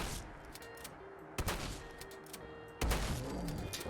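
Winchester M2 shotgun firing in Fallout 4, with a few sharp booming blasts spaced a second or so apart over a low background of game ambience.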